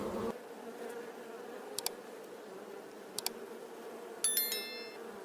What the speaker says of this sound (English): The journey begins within the hive where countless bees diligently transform nectar into golden